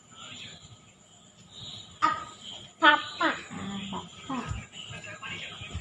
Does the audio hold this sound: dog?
yes